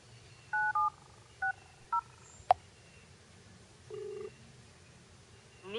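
Phone keypad tones sound in a few short beeps of differing pitch as a number is dialled, followed by a sharp click and a longer tone, fairly quiet over a low background hum.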